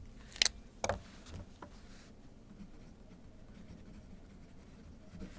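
A pen scratching on paper in a few brief strokes near the start, faint and close, followed by quiet room noise.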